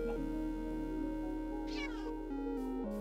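Minecraft cat meowing in the game, a couple of clear pitched meows over a steady background music bed.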